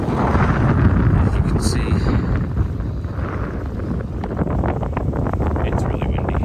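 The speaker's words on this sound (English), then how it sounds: "It's also really windy." Strong wind buffets the microphone aboard a 1994 Broward motor yacht docked in Charleston on a dark early morning, a loud steady roar with gusts throughout, and someone speaks briefly over it.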